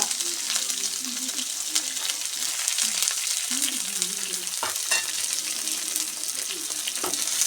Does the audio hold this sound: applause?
no